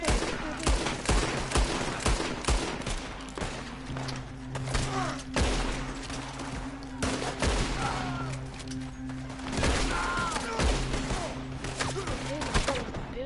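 Rapid volleys of gunfire in Red Dead Online crack and pop continuously, overlapping shots from several weapons filling the scene, with players' voices faintly beneath the shooting.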